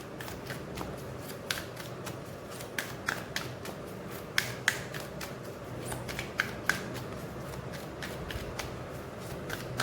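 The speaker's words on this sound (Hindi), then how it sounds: "पहले मैं कार्ड्स निकाल लेती हूँ, एक ही कार्ड निकालूंगी" A deck of tarot or affirmation cards is shuffled by hand, giving a close, quiet run of rapid riffling flicks and soft slaps in uneven bursts, with no talk over it.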